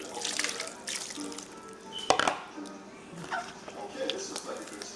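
Water is poured into a cooking pot while preparing okpa: a splashy trickle is heard close by, with someone talking over it and a brief clatter partway through.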